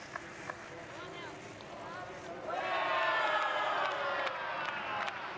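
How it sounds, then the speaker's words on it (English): Crowd cheering at a Tokyo 2020 Paralympic boccia match, a swell of shouting and high voices rising partway through and staying loud, under a commentator's talk. "with all the cheering going on, which is lovely to hear"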